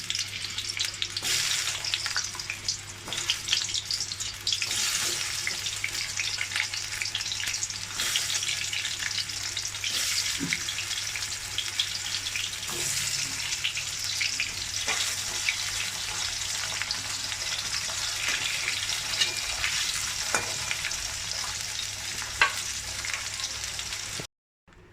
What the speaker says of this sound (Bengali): এবার আমি আলু ভেজে নিচ্ছি।